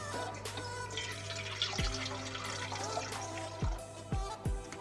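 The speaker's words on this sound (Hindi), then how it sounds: "और अब इसमें मैं डालूँगी पानी।" Water poured into a fine mesh strainer of washed poppy seeds, a steady splashing trickle with several sharper drip-like splashes near the end, close and moderately loud, with no talking.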